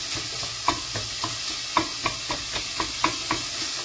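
Food frying in a pan under a soft steady sizzle, punctuated by a brisk rhythmic series of about a dozen close scraping strokes from a utensil as it is stirred.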